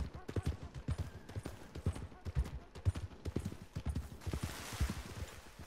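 Steady clip-clop of horse hooves on a hard surface, close by, with a person talking over the rhythmic footfalls throughout.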